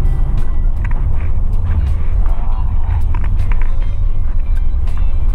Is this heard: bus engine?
yes